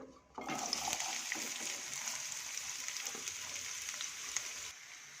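Onions frying in a pan for a brinjal dish, a bright continuous sizzle that starts abruptly and holds steady with occasional stirring clicks, close and fairly quiet.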